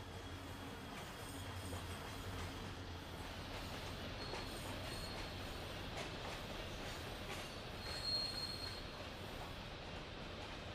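A passenger train rolls through a station crossing on the loop line, its wagons rumbling steadily with faint wheel squeal and clatter, a continuous mid-distance roar with no talk.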